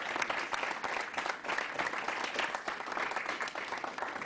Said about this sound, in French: Acclamation pour lui, s'il vous plaît.